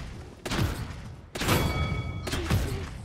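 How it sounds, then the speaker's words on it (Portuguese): Bursts of rapid gunfire from the video game Paladins come in three short volleys, loud and close, with no talk. "bastante tiro pra matar o inimigo"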